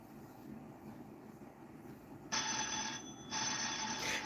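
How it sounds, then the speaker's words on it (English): A telephone rings with a bright, steady electronic tone that starts partway in, breaks briefly, then resumes, loud and close over faint room noise. "It's the phone ringing."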